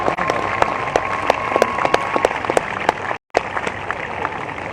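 A crowd applauds a sailor passing through the locks at the start of the Route du Rhum 2022 sailing race, with steady outdoor clapping and a few sharp claps standing out, cut by a brief gap near the end.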